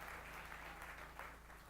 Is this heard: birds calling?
no